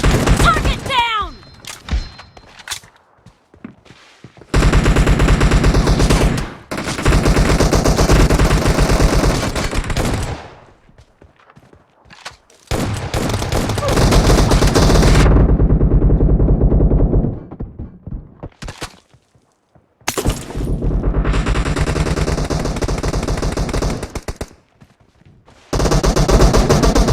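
S12K shotgun fire in the PUBG Mobile video game: loud, dense bursts of rapid, booming shots that run for several seconds each, separated by short silent pauses.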